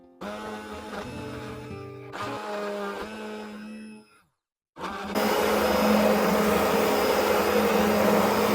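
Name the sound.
stick blender mashing food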